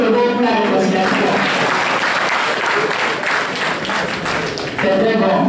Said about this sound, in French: acclamez le Togo pour la réconciliation